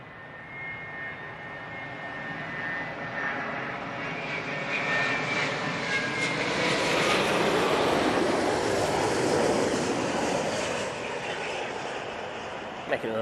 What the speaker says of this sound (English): Making an unholy racket, that Dreamliner, wasn't it?